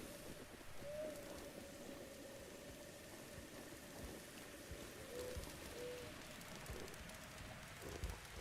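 Rain falls steadily in the video game Zelda: Breath of the Wild, a soft continuous hiss heard very faint with a few brief tonal blips over it.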